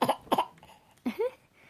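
An eight-month-old baby gives a few short, breathy cough-like bursts in imitation of an adult's cough, two quick ones close together, then a longer voiced sound after a pause, close to the mic.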